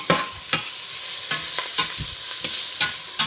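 Onions sauté in olive oil for a vegan chili, a bright steady sizzle broken by several sharp scraping stirs of a utensil in the pan, close and clear with no talking.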